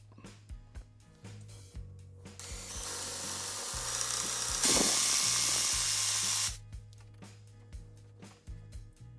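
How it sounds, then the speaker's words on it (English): A power drill bores a hole in wood with a 1/2-inch Forstner bit, a steady rising whir and grinding lasting several seconds, with clicks and handling noises before and after. "we've got our 1/2" Forstner bit hole drilled there"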